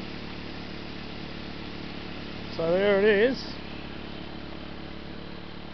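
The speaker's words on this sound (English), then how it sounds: "Most of the noise you can hear is those rapids there." Steady, broad rushing of river rapids fills the background beside a gold-panning highbanker setup, continuous and even throughout while someone speaks briefly.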